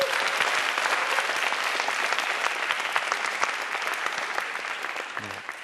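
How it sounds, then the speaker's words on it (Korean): Audience applause for middle school students at a Korean lecture event, steady dense clapping from a crowd filling the whole stretch, tapering slightly toward the end. "우리 중학생들에게 박수 한번 주십시오."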